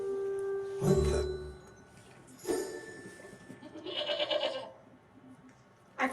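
Goats bleat close by in three or four loud, wavering calls spaced a second or two apart, with quieter pauses between them.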